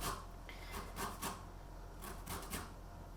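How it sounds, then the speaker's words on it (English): A washed, dried lemon is rubbed up and down a microplane, giving several close, raspy scraping strokes in an uneven rhythm with no talking. "you literally rub that lemon up and down on your microplane"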